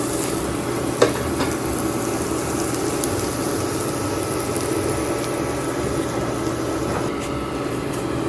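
Chicken aloo paratha fries in a pan, a steady broadband sizzle running the whole time, with a brief scrape or clink as it is pressed down near the start.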